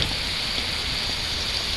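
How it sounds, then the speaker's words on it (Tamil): Steady, dense hiss of rain falling outside in the Indian Theft Auto video game, a constant, even wash with no pauses. "ஓ, வெளியே மழை பெய்யுதுங்க."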